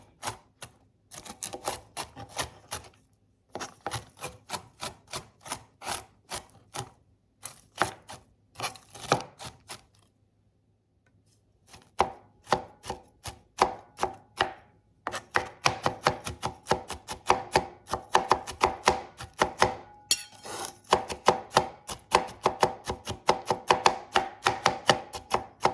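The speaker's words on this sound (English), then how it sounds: "So just keep chopping it until it's finely chopped." A knife chops walnuts finely on a cutting board, fast, steady close-up taps in dense bursts with a short pause around the middle, then a busier, louder stretch toward the end.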